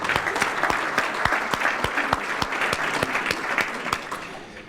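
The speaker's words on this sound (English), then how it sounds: "I think we owe Joanne another round of applause for those powerful words indeed." Audience applause for Joanne at a peace and unity conference, steady and sustained with a few sharp individual claps standing out, filling the hall for several seconds and easing slightly toward the end.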